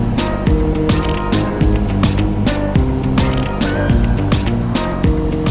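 A 2018 Honda CB125R motorcycle engine revving up through the range, loud and close, with repeated rising and falling pitch as the throttle is worked.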